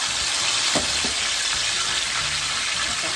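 Marinated pork ribs fry in hot oil for crispy pork belly, a loud dense sizzle and crackle throughout, with a few soft clunks as the pieces are handled.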